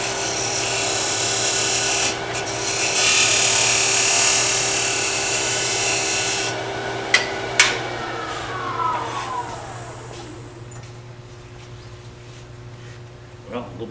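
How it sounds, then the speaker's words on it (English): A skew chisel cuts wood on a lathe while a miniature nesting box is being turned: a steady motor hum runs under a bright scraping rasp that fades after several seconds and leaves a few faint clicks and taps. "I think we'll use our skew chisel to finish this off"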